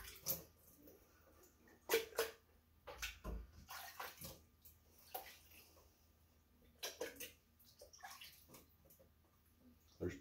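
Water pours into a glass canning jar packed with pears, heard as soft irregular splashing and gurgling bursts that start and stop, fairly quiet with no talking.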